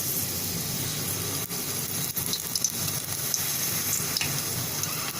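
Dry red chillies fry in oil in a pan on the stove, a steady, moderately loud sizzling hiss with a few faint pops and no break.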